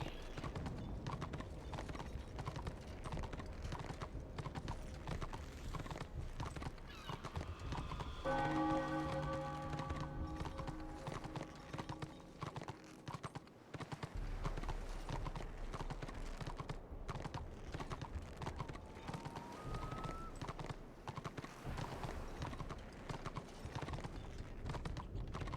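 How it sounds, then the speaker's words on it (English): Orcs riding horses in the video game Warhammer Online, steady hoof clip-clop throughout over ambient game noise, with a brief whinny and ringing bell tones in the middle. "Orcs on horses are just too funny."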